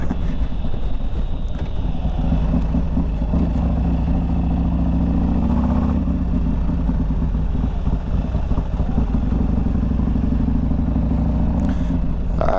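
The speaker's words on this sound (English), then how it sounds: "First ride on the new old StreetGlide with the new motor." Harley Street Glide motorcycle with a new S&S 124 engine rumbles steadily while riding, a deep continuous throb mixed with heavy wind noise across the whole stretch.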